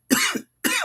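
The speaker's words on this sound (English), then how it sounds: "Excuse me for the coughing and stuff." Two sharp, close coughs from one person, a longer harsh burst followed by a shorter second one after a brief pause.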